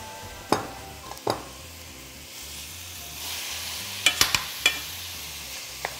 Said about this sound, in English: Next up, we have our ground beef. Want to get this browned in there.